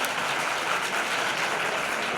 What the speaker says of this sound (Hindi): बालिकाओं के ताली स्वागत करें एक बार जोरदार इनका